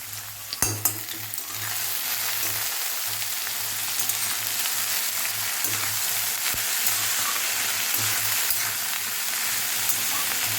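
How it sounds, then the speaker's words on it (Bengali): Potatoes frying in a pan with a steady sizzle, a spatula stirring them with repeated scraping scrapes and a few sharp clinks against the pan, with no talking. "আর এখন আলু ভাজা করছি"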